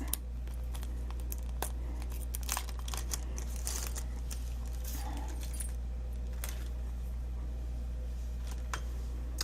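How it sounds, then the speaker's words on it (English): A small bag holding a washer, a tool and an Allen wrench for a cut and emboss machine is handled, giving scattered light metallic jingles and plastic crinkles close by over a steady low hum, with no talking. "there's a little bag with a washer, a tool, and a Allen wrench"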